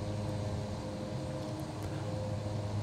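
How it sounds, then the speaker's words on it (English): A Cessna 408 propeller engine in a flight simulator game hums as a steady, continuous drone with a low tonal throb, heard alone without talk. "You will even hear the sound will also reduce for the propellers."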